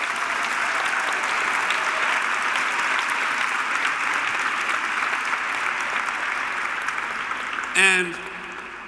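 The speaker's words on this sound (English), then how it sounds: "So give them a big applause." Sustained audience applause at a dinner reception, a dense even wash of clapping from a large crowd that carries on for several seconds, then a short spoken word cuts in near the end as the clapping fades.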